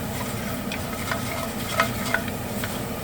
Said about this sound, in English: Here it's starting to sizzle.